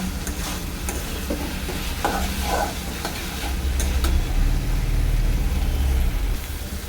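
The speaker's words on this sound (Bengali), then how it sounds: "এবার নুন হলুদ দিয়ে এটাকে পাঁচ সাত মিনিট কষিয়ে নেব" Ingredients stir-fried in a pan with salt and turmeric give off a loud crackling sizzle mixed with repeated scraping of a spatula, close up, with a low rumbling hum building in the second half.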